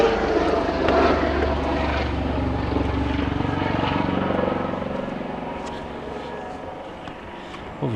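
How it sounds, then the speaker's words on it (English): A police helicopter drones loudly overhead at Rockingham Castle, its rumbling engine noise steady at first and then slowly fading as it moves away. "That's a police helicopter."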